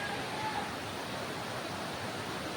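Steady broadband rush of falling water at Palasdari Waterfall, a continuous dense roar close by with no distinct breaks, filling the whole moment evenly.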